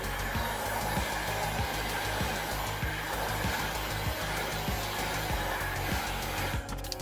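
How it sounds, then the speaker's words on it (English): A hair dryer used in place of a heat gun warms door handle trim on a Ford Mustang Mach-E, a steady loud blowing whir with a faint repeating ticking underneath, running continuously with no talk. "If you don't have a heat gun, you can also use a hair dryer."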